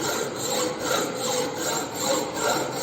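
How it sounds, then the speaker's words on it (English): A hand file stroking back and forth across a metal workpiece in a fitting shop, steady close rasping in an even rhythm of about two strokes per second, no voices. "Now the filing is complete"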